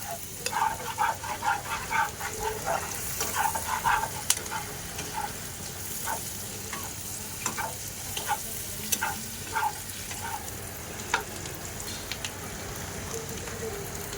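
A metal spatula scrapes around a kadai where prawns are frying and sticking to the pan, making repeated quick clicking scrapes over a soft, quiet sizzle.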